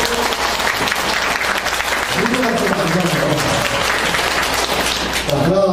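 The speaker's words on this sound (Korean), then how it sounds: "여러분들 박수를 치면 넘어가요." Lecture audience clapping together on a count of three at a humanities talk, a loud sustained burst of applause with some voices mixed in, swelling slightly near the end.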